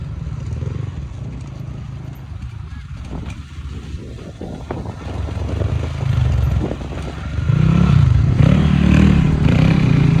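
Motorcycle engine droning steadily throughout a weekend group ride near Chiseni, Thulogaun, with rumbling low tones that swell louder toward the end, plus wind and road clatter.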